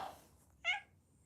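A single short meow from a cat, close and fairly clear, following a faint trailing sound in an otherwise quiet room.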